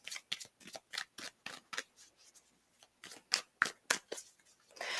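Tarot cards are being shuffled, giving a string of crisp rapid riffles and snaps in uneven bursts with brief pauses, close and fairly quiet, no talk.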